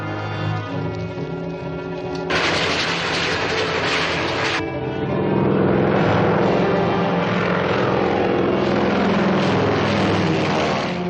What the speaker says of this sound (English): Get some altitude and I'll parachute down in front of him.